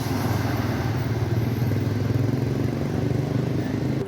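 A motorbike engine drones steadily and loudly at a zebra crossing with no speed bump in Nairobi's central business district, holding a continuous mid-pitched rumble for about four seconds.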